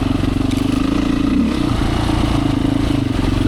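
A Beta 500 dirt bike rides a rutted, whooped trail on Michigan's Black Lake North Loop, its engine droning loudly and close with a brief rise in revs midway, over rattling and clattering from the chassis.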